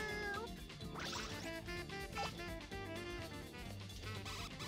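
Cats meowing in Katamari Damacy Reroll, heard over the game's busy, bright music; a couple of short rising meows stand out near the start and middle.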